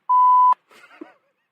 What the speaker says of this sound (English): you're going to hit the beep button as we get ready